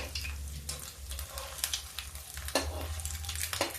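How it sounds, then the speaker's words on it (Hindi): Cabbage kofta balls fry in hot oil with a steady bubbling sizzle, broken by occasional sharp crackles and the scrape of a ladle stirring, close up with no talking. "गोल्डन ब्राउन होने तक इनको हम फ्राई करते हैं।"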